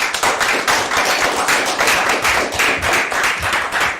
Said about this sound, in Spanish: Si me acompañan a darles la bienvenida con un aplauso.